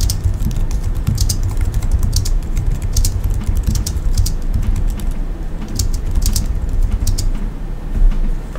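Steady typing on a computer keyboard during a software usability session, with clustered bursts of key clicks over a low room hum, close and moderately loud.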